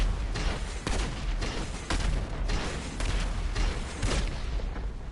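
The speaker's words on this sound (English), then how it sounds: "Let me just quickly use all the missiles." A special vehicle in GTA V fires a rapid volley of missiles, giving a dense run of heavy booming launches and blasts roughly every second, loud and close throughout.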